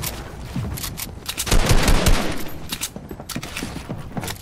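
Dense automatic gunfire in a battle royale game on the Reloaded map, rapid overlapping shots rattling continuously with a louder, heavier burst in the middle, close and alone without talk.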